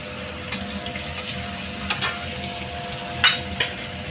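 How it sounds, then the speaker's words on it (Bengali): Curry leaves fry in hot oil with a steady close crackle and sizzle. A few sharp pops and utensil clicks stand out, and no voices are heard. "আমি ওই তেলের মধ্যে কারি পাতা দিয়ে দিয়েছি"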